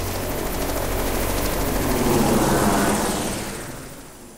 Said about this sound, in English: The helicopter almost immediately lifts off,